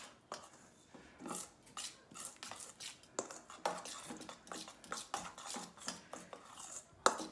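Asparagus fritter batter being mixed in a bowl, soft repeated scraping and clinks of a utensil against the bowl in an irregular rhythm, close and quiet.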